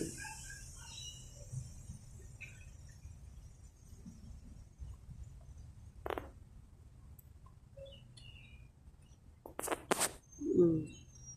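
Faint, soft bird coos and a few scattered chirps from a long-billed bird walking outdoors, over a low outdoor rumble, with brief sharp sounds near the end.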